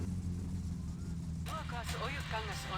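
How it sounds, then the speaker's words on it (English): Car engine idling in the video game My Summer Car, a low steady rumble with a constant hum running underneath, joined halfway through by a person talking over it. "So right now the car's idling."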